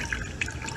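Liquid poured into a cooking pot for a vanilla preparation, a short burst of splashing and dripping with a couple of brighter spattering accents.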